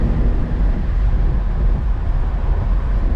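A BMW 328xi E90 sedan accelerates from inside the cabin, with a steady low engine drone and road rumble that stays loud and even throughout.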